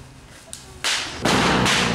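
Sharp firecracker bangs at a Monte Cassino battle reenactment in Poland: a faint crack, then two loud close blasts with broad noisy decay, each following quickly on the last.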